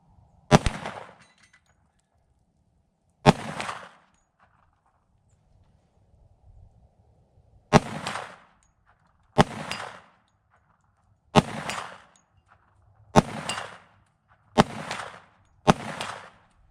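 A Tisas 1911 Night Stalker 10mm pistol fires eight sharp, loud single shots at irregular intervals outdoors, each followed by a brief ringing clang from a steel plate at 50 yards, with quiet gaps between.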